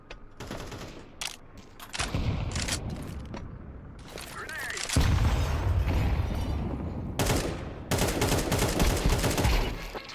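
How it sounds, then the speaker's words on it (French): Gunfire in Counter-Strike comes in loud, dense bursts of rapid shots with booming impacts, nearly continuous from about midway, while a player talks over the action. "J'ai tiré sur mon mate."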